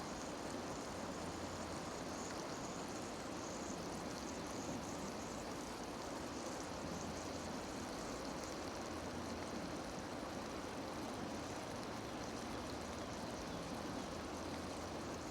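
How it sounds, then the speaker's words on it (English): A river flows steadily nearby, a continuous broadband rushing and gurgling wash of water that holds an even loudness throughout with no voices. "listen to this river for a moment"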